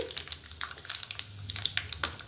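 Spices for Andhra-style amla pickle tempering sizzle and crackle in hot oil, a soft, steady frying hiss with scattered small pops and faint stirring, fairly quiet and unaccompanied.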